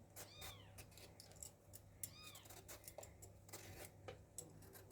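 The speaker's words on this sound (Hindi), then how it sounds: "हमारे यहाँ बिल्ली ने बच्चे दिए हैं" Several high, thin kitten meows repeat at intervals against a quiet room with faint clicks and a low hum.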